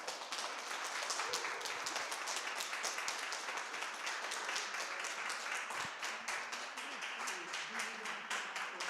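Audience applause at a fan convention as an actor known for Stargate is welcomed, a steady, distant wash of many hands clapping that holds evenly throughout, with no speech.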